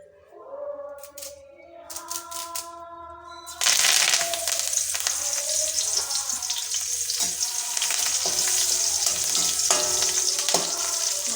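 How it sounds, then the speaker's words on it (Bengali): Curry leaves fry in hot oil in a pan, a quiet start giving way to a loud, steady crackling sizzle at about four seconds that keeps going to the end, with no talking. "এবার কারি পাতাগুলো ভেজে নেব ভালো"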